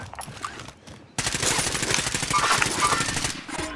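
Sustained automatic gunfire in the video game Call of Duty: Modern Warfare breaks out after a quieter opening and rattles on steadily as a loud, rapid burst close by.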